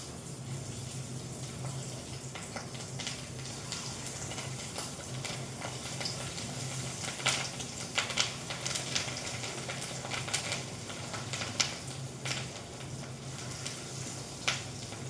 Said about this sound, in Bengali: যে মাছের ডিম বড়া করছি